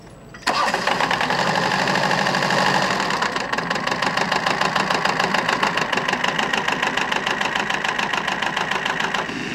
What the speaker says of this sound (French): une faucheuse tirée par une paire de chevaux et actionnée par un moteur auxiliaire